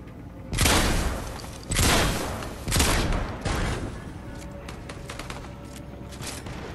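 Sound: gunfire in the video game Fortnite

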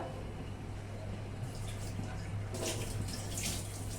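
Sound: pouring water onto sugar

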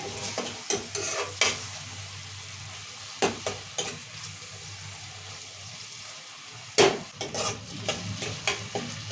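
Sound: tomatoes, onions and chillies frying in oil

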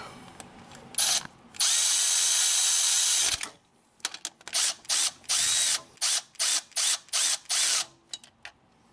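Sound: tightening Honda Pilot power steering pump bolts

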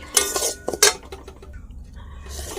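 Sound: stirring semolina in a kadai while roasting

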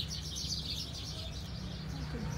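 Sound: birds chirping

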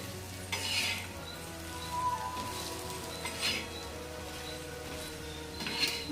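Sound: stirring soybean chutney in a pan

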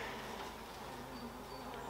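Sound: honeybees buzzing at an open beehive

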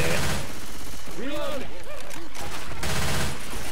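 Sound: gunfire shooting zombies in video game Left 4 Dead 2

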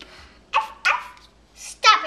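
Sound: puppy barking

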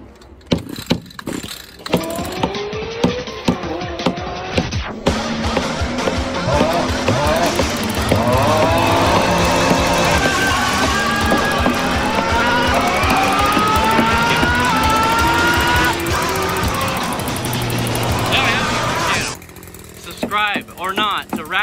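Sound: gas string trimmer engine starting and running

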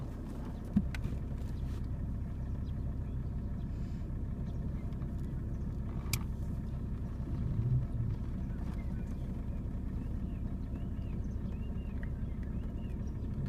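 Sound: car engine running while driving

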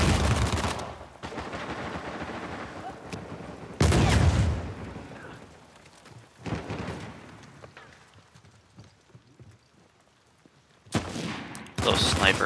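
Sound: suppressive gunfire in the video game Uncharted 4

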